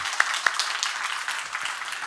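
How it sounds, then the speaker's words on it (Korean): A church congregation applauds in thanks during a Sunday worship service, a dense, steady wash of many hands clapping with a few sharper individual claps near the start, moderately loud and without talk. "하나님께 우리 감사의 박수 한번 하겠습니다."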